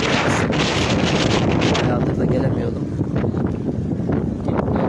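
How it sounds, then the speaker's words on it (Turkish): Heavy seaside wind on the Üsküdar shore buffeting the microphone, a constant loud rumble throughout, with a voice speaking briefly underneath. "Rüzgar da var."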